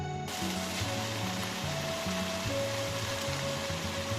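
Chicken and vegetables, including zucchini and peas, sizzle steadily in a pan, a continuous close hiss and crackle without talking.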